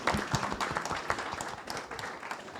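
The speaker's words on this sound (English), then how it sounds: "Go on, come on, clap for that." Audience clapping after a call to applaud artists and mentors at a youth development event, a dense patter of hands with scattered sharper claps, steady throughout without any talk over it.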